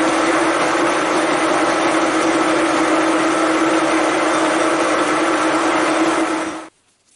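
An experimental fly cutter milling metal at 300 RPM, a loud, steady droning hum with a constant tone that stops abruptly near the end, with no talking.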